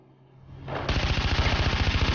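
Rapid automatic gunfire in the video game Far Cry 4, a sustained burst of loud, evenly spaced shots that starts abruptly after a brief rising rumble and keeps rattling to the end.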